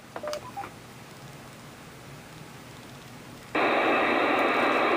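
A quick burst of DTMF keypad tones from a Kenwood TR-7400A radio keying a repeater, followed by quiet, then a sudden loud wash of radio static.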